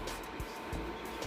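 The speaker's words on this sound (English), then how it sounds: "sorry about that noise in the background. I got my little heater on." A steady whirring fan hum fills the background, constant and fairly quiet, with faint periodic ticks.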